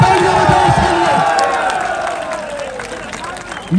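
Crowd at a political rally clapping and cheering, a dense roar of applause that gradually fades, with voices mixed in and a loud voice cutting in at the very end.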